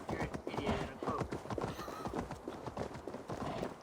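Hooves of a reindeer mount in Assassin's Creed Valhalla, a steady close clip-clop rhythm, fairly quiet, with talking over the hoofbeats.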